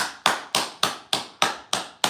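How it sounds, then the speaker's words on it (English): A single person claps eight times at a steady, brisk rhythm, each clap sharp and close to the mic, alone with no talking. "I'm going to give you a round of applause for that."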